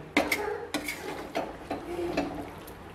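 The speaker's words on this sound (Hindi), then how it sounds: "आराम से मिक्स करें मैं एक साइड से मिक्स कर रहा हूँ ताकि गिरे ना" Spoon scraping and stirring gond halwa mixture in a pan, a series of distinct scrapes and clinks about every half second, close and moderately loud with no talk.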